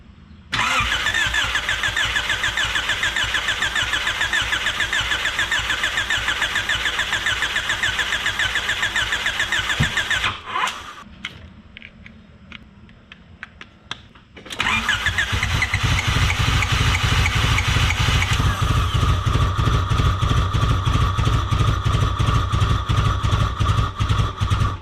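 A Honda Accord fitted with a swapped-in 1.8T engine cranks and fires, then drops away briefly before catching and settling into a loud, steady close-up run with a rhythmic pulse.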